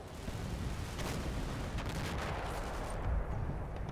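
Soldiers exchange gunfire in the Combat Mission: Battle for Normandy video game, set among Normandy hedgerows. Dense, steady rifle and machine-gun fire with distant booms rolls on without a break, and there is no talk.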